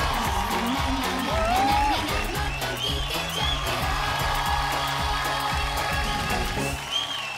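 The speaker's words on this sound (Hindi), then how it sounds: "जोरदार तालियां हो जाए विवेक आनंद ओबराय के लिए" A television studio audience on a Hindi drama talent show bursts into loud, sustained applause and cheering, with whoops rising over dense clapping and a musical sting playing underneath.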